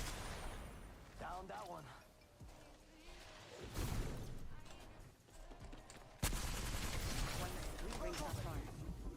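Weapons fire in the battle-royale shooter Apex Legends, with loud bursts of gunshots and rattling rounds in the game mix while a player talks over the action.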